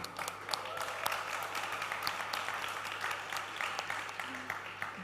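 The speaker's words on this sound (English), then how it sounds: "I think we deserve applause for this." Audience applause fills a product launch event for the Realme 2 Pro smartphone in Malaysia, a steady wash of clapping from a crowd that stays moderately loud throughout with some faint voices mixed in.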